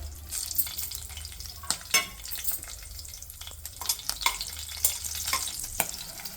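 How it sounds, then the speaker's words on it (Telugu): Curry leaves and cut green chillies frying in oil in a pressure cooker, a continuous sizzle broken by sharp crackles and pops, with occasional stirring scrapes and no voices. "కుక్కర్లో తగినంత నూనె వేయాలి కరివేపాకు కట్ చేసిన మిర్చి వేయాలి"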